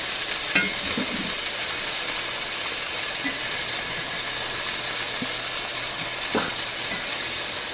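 Bread frying in a cast iron pan alongside a bacon mushroom cheddar melt, a steady bright sizzle and hiss throughout, with a few soft scraping taps of a utensil.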